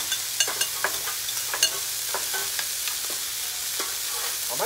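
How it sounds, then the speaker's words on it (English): A whole chopped white onion fries in butter, crackling and sizzling steadily up close while a utensil scrapes and stirs in quick irregular clicks, with no talk. "This is just 1 whole white onion. We're gonna put that in the butter directly in."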